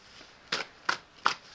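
Tarot cards shuffled by hand during a reading, giving three crisp riffling bursts at a steady pace, close and clear against a quiet background.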